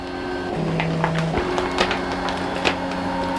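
A BAI Mirror 1501 embroidery machine traces a design outline on a T-shirt, giving a steady close mechanical hum with quick clicking needle and frame taps and short whirs, no talking.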